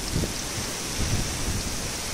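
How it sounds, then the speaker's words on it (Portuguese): Heavy rain pours down on dry farmland, filling a tank, a dense steady hiss of downpour with soft low rumbles mixed in, moderately loud and constant throughout without talking. "Chuva aqui demorou, tropa, mas veio daquele jeito, viu?"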